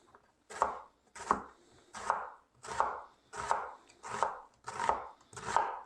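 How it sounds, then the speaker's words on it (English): A knife cuts a peeled onion into lengthwise strips on a board, giving eight crisp, evenly spaced chops close up, each a sharp thud with a short fade. "now I'm just going to cut it into strips lengthwise"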